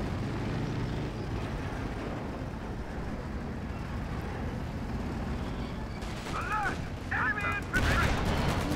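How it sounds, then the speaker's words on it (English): Tank cannon fire and battle noise as Shermans engage a Panther in Company of Heroes 2, a dense rumbling barrage with sharper blasts and whining effects near the end, with no speech. "Panther coming under fire there from the Shermans."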